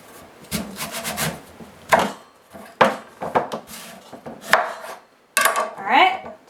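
A knife cuts a sweet potato in half on a wooden board: a series of sharp, close chops and scraping knocks in uneven rhythm, loud and clear with no talking.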